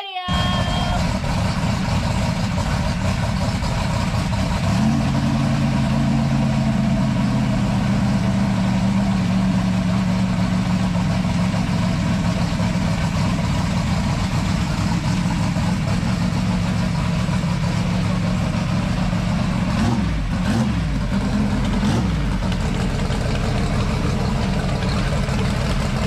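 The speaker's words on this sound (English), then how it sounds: "we've got Mike Murillo and his twin turbo Mustang" A twin-turbo Fox-body Mustang no-prep drag car idles loudly and close by, a steady rumbling drone that holds for the whole stretch with a brief blip in revs near the end.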